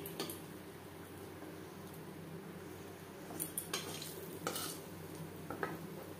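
A piece of dried red chilli fries in hot mustard oil, a quiet, thin sizzle under several sharp clinks and scrapes of a utensil against the pan.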